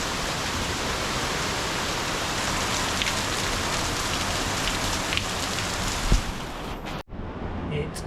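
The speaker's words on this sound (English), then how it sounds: "chucking it down with rain pretty much most of the day" Heavy tropical rain pours down in Koh Samui, Thailand: a dense, steady roaring hiss of drops hitting surfaces, with a brief knock near the end before the downpour abruptly cuts and resumes.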